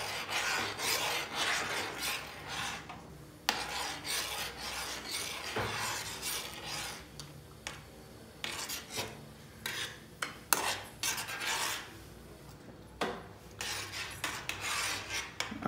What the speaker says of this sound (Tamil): இது வந்து நல்லா ஸ்டிர் பண்ணணும் சிம்மரில் வச்சு